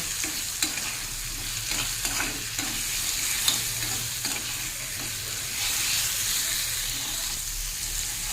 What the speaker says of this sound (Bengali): হাফ চামচ মতো নুন এটাকে ভালো করে মিশিয়ে মিশিয়ে কষিয়ে নেব